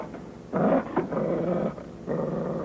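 A dog growls low and menacingly in two or three close rumbling bursts, with short pauses between.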